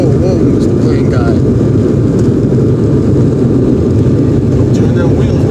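Aircraft engines roar loudly and steadily during takeoff from Maine, a dense low rumble filling the cabin while people talk over it.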